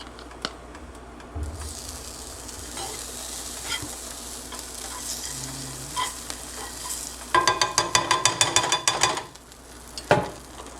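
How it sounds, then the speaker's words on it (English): Butter sizzles in a frying pan on a breakfast stove with a soft, steady hiss, then a run of sharp, rhythmic scraping clatter near the end. "We're gonna have to butter the pan up."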